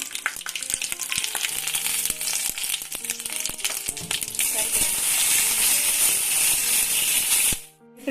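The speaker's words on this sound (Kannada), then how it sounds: "ರೆಡ್ ಚಿಲ್ಲಿ ಹಾಕ್ತಾ ಇದ್ದೀನಿ ಸ್ನೇಹಿತರೆ ಇದನ್ನ ಈಗ ಒಂದು ಒಗ್ಗರಣೆ ಕೊಟ್ಟು ಮಿಕ್ಸ್ ಮಾಡೋಣ" Cumin, mustard seeds, red chilli and garlic tempering in hot oil for a raw Totapuri mango palya, a close, steady sizzle that grows louder and hissier halfway through, under a voice, then cuts off abruptly.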